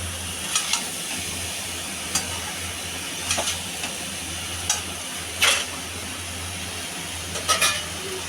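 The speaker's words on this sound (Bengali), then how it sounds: "নাড়তে নাড়তেই প্রায় আবার সম্পূর্ণ রান্নাটা হয়ে আসছে" Banana flower curry, a Bengali mochar ghonto, is stirred in a pan over a steady close frying sizzle, with scattered spoon scrapes and clinks and no talk.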